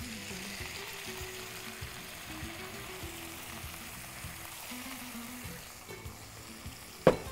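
Quail masala with salt and turmeric fries in a pan as water is sprinkled in, a faint, steady sizzle that continues for several seconds, with a brief louder clatter near the end.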